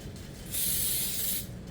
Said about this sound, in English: spray a little spray